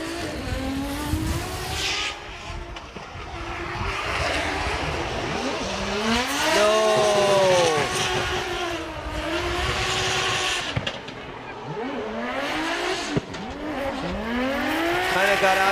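A Toyota GR86 drift car at a Formula Drift Japan 2024 event revs and slides, its engine whining up and down with squealing tires, while a commentator talks over the roar.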